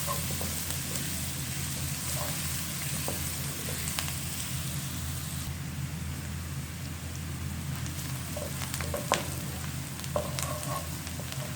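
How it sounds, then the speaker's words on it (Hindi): Chopped onion fries in a pan for homemade pizza sauce, giving a continuous dense sizzle and crackle with occasional sharper pops and stirring clicks, steady and close, with no voices. "इसको फ्राई करना है कि इसका रंग जो है थोड़ा सा इसका बदल जाए।"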